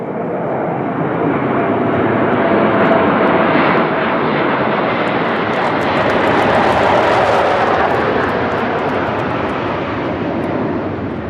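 A military jet flies over a parade of the Algerian army, its engine a loud, continuous broadband roar that holds steady for several seconds and swells slightly as it passes.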